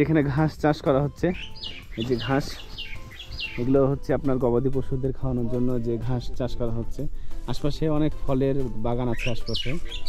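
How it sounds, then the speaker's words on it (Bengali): A common myna chirps and calls in the countryside around Doodhpathri, Kashmir, near grass fields and orchards; the calls are short and intermittent beneath someone talking throughout. "এই যে শালিক পাখি ডাকছে।"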